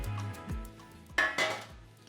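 Ceramic baking dish clinks and knocks a few times as rolled savoury crepes are set into it, sharp close clatter near the middle of the short stretch with softer handling thuds around it.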